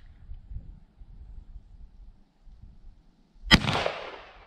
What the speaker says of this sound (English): Oh my goodness, shooting those old rifles.